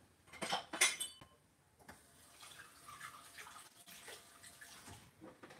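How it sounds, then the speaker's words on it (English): Running tap water rinses a one-cup measuring cup in a kitchen sink: a few clinks and splashes at the start, then a steady, moderate stream of water flowing alone. "Okay, just had to wash one out."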